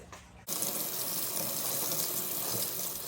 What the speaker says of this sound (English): So now we're just going to go ahead and we're just going to rinse out all the detergent on the shoes.